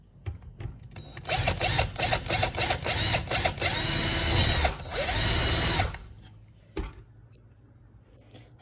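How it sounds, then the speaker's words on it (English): A power drill whirs loudly for several seconds as it bores into the top of a thin, long piece of wood, then stops, leaving a few quiet knocks and handling sounds. "you're gonna drill it into the top of a piece of wood like this"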